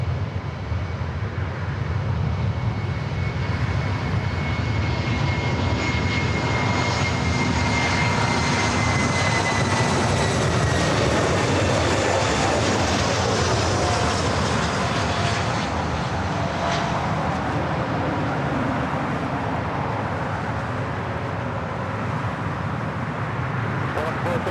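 An Emirates Airbus A380 landing at LAX on runway 24 right, a loud, broad jet engine roar sustained throughout with a slow whining pitch drift, while an air traffic control radio voice talks over it.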